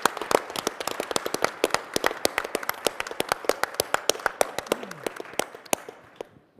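Audience applause at an SAP TechEd keynote: a dense, steady patter of many hands clapping for several seconds, fairly close and even, thinning slightly at the end.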